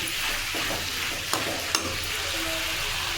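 Ingredients for chicken green masala fry in a pan, a steady sizzle with the scrape and clink of stirring and two sharp taps on the pan, at close range without talk.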